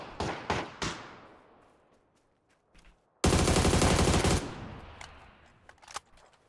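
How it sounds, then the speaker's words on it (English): Video game gunfire from a bot shooting through trees: a few sharp single shots, then a loud dense burst of automatic fire lasting about a second, followed by scattered faint reports with no talk. "this bot is just shooting me through the trees the whole fucking..."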